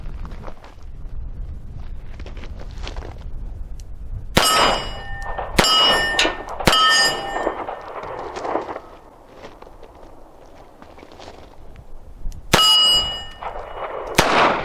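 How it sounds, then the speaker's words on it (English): A Smith & Wesson M&P Bodyguard .38 Special revolver fires outdoors at steel targets: four sharp shots, three close together and one after a pause, each followed by a ringing metallic clang, with quiet rustling between. "let's put a few more rounds through it"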